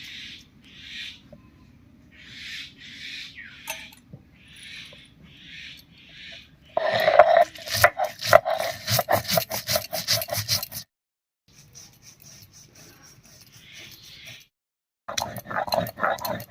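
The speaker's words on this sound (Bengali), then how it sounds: "এক চামচ পোস্ত এক চামচ মতো কালো সর্ষে আর তিন চারটে কাঁচা লঙ্কা এবারে একসঙ্গে করে একটুখানি লবণ দিয়ে বেটে নেব" Poppy seeds, black mustard, green chillies and a little salt are ground together into paste, heard as close, rough rubbing and scraping strokes in irregular bursts separated by short pauses.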